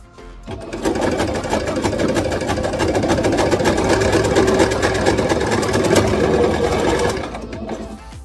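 A sewing machine stitching all the way around a piece of fabric, running steadily and loudly for about seven seconds in a fast, even mechanical rattle before stopping.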